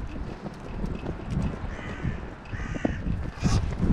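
Crows caw repeatedly at a feeding station outdoors, harsh calls scattered among wind buffeting and rustling, some nearby and loud, others farther off.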